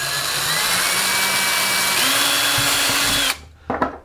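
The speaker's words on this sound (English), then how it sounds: "I'm gonna just drill a hole in the center, and that's where our bolt is going to go through." Power drill boring a hole into the center of a plastic GoPro mount disc, a loud whining motor with rising and falling pitch for about three seconds, then stopping abruptly followed by a couple of short clicks.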